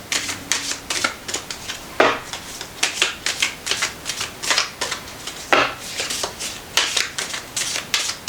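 Tarot cards are shuffled in quick bursts of riffling and sliding, bright papery rasps that come in uneven clusters with short pauses, close and fairly loud, with no talk over them.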